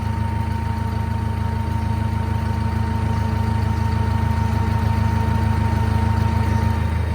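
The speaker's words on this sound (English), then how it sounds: "If I give the tractor some throttle power, it goes faster." A tractor engine runs steadily at close range while its 3-point hitch is lowered, a constant low drone with a faint steady whine above it and no pauses.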